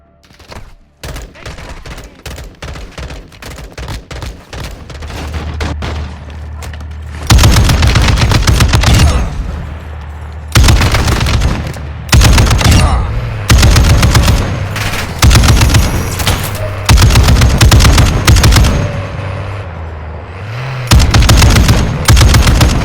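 Heavy automatic gunfire in the Call of Duty DMZ video game comes in rapid sustained bursts, loud and close, with short pauses and booming low impacts between volleys.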